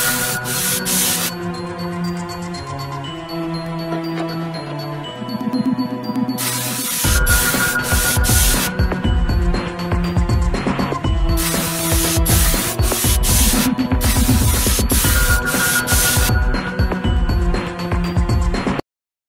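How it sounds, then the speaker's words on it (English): Several hissing bursts of spray from an aerosol can, some short and some long, over continuous background music. "Now where's my spray paint?"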